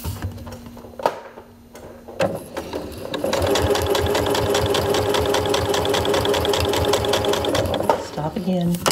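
A sewing machine stitches the last seams of a fabric mug rug. After some handling noises, a steady, close, rhythmic whir of needle strokes runs for several seconds before stopping.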